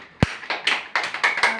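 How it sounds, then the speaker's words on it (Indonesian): Short burst of clapping in a classroom during a maths lesson, a few sharp separate claps in quick succession, close and fairly loud. "Tepuk tangan buat kita, cepat."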